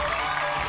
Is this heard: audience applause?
yes